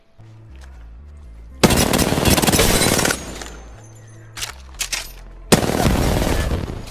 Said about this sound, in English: Yasmin, I need to try right now to just shoot this dummy